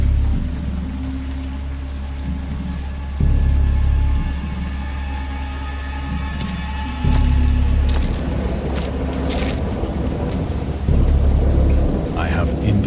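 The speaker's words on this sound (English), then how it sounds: "I have indistinct recollections of a great storm sometime after I reached the boat." Heavy rain hisses continuously during a thunderstorm in the Dagon video game, set around a boat at sea, while deep loud thunder rumbles swell in repeated waves.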